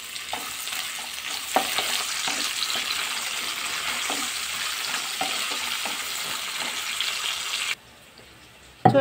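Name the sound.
sliced onions frying with garam masala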